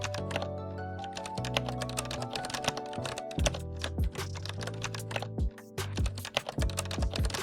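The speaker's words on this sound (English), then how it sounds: "Type your text." Rapid typing on a computer keyboard, a steady close patter of key clicks with heavier thunks from larger keys, running continuously with no voices.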